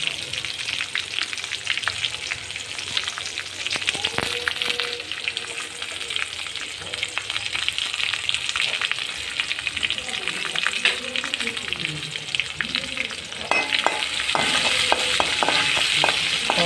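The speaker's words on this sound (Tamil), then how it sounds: "பச்சை வாசம் போகிற அளவுக்கு வதக்கணும் வெங்காயம் நல்லா வதங்கிட்டோம்" Onions sautéing in a pan for brinjal thokku, a dense steady sizzle and crackle of frying with repeated scraping and tapping of a spoon against the pan, close and busier toward the end.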